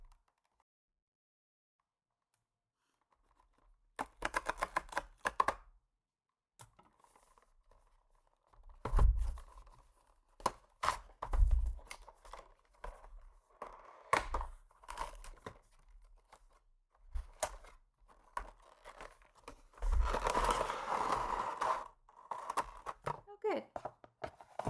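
A cardboard tear strip is ripped open on a Penny's Box Antu Dreamlike Tea Party Daydream Centaurs unboxing, heard close up as short rasping tearing bursts mixed with crinkling packaging and handling noises, separated by brief pauses.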